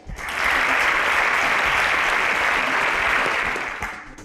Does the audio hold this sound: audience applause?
yes